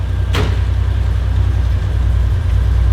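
A Ford Falcon XE with a carburetted 4.1 crossflow engine idles in a steady, close, low-pitched rumble, broken once early by a short sharp click or knock.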